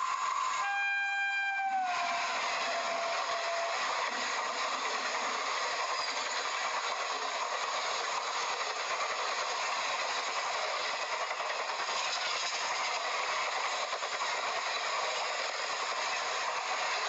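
Godavari Express passenger train running from Hyderabad toward Visakhapatnam via Vijayawada: a steady, loud rolling rumble throughout, with a brief horn blast at the very start.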